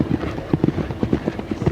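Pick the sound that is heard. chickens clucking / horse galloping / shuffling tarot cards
horse galloping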